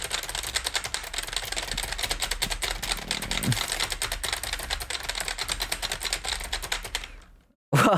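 Rapid clattering keystrokes on a computer keyboard, dense and continuous for about seven seconds, fairly close and loud, then cutting off abruptly before a brief final burst.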